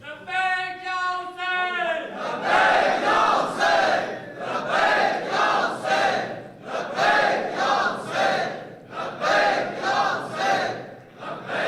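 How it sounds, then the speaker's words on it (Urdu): A big crowd at an Islamic religious lecture chants slogans together in loud, rhythmic repeated bursts after a short lead voice opens, the chant rising and falling for several cycles. "یہ تو بہت تھکے ہوئے لوگوں کی طرح نعرے لگا رہے ہیں آپ لوگ"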